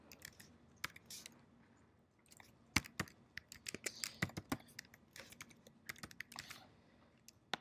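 Someone types a password on a computer keyboard, producing quick, irregular clusters of close key clicks with short gaps between them, fairly quiet and with no speech.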